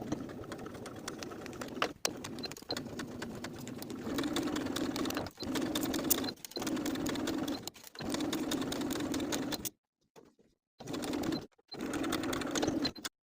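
Sewing machine stitching the edges of a welt pocket lining on a women's wool jacket: a steady, quiet motor hum and needle whir in long runs, broken by short pauses and clicks between stretches of stitching.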